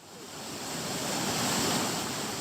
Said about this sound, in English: the sound of the water is deafening as it rushes downstream toward the camera